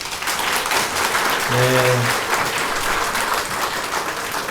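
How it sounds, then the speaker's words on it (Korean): A church congregation applauds the children in a steady, loud round of clapping, with a brief tonal beep and a short spoken word partway through. "우리 아이들 인사할 때 박수 한번 주세요"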